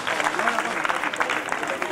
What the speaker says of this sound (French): il faut applaudir très, très fort